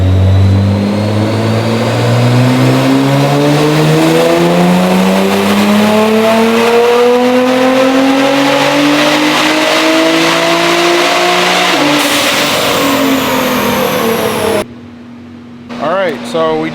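A Nissan GTR on a dyno being tuned for about 800 horsepower, engine climbing in a long loud rising pull for roughly twelve seconds, briefly dipping, then cutting off near the end into quieter talk.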